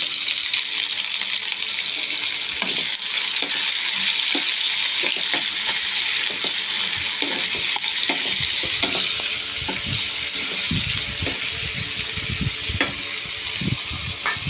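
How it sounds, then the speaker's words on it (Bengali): Onions frying in hot oil after cumin seeds, for a small-fish (kachki) curry, with a steady loud sizzle and scattered scraping stir clicks throughout, no talking. "এবার আমি পেঁয়াজটা ছেড়ে দিয়ে পেঁয়াজটা ভাজবো"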